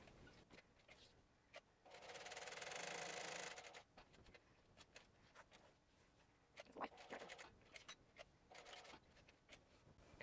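A hand-cranked sewing machine stitches a zipper onto a crossbody pouch, giving a loud, steady mechanical whir for about two seconds, then scattered clicks and handling noises.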